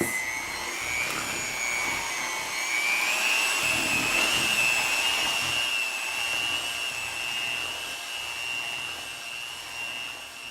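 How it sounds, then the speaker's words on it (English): An electric mixer whips a batter on high speed, producing a loud, steady motor whine close by whose pitch rises slightly and then holds, running continuously with no talking. "now we're going to switch to a high speed and mix this on high for a good 5, maybe 10 minutes"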